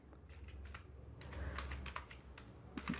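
Keys clack on a computer keyboard while a name is typed into ArcGIS Pro, a quick run of close, soft taps with brief pauses over a low steady hum.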